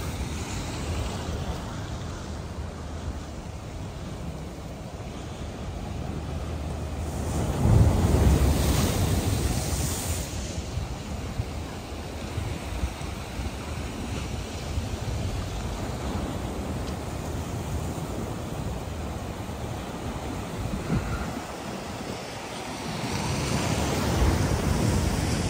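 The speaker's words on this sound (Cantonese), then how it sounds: "啲幾大浪啊！" Large ocean waves crash and surge beneath the Golden Gate Bridge, a continuous broadband roar with heavy wind buffeting the microphone and a louder breaker swelling around the middle, with no one speaking.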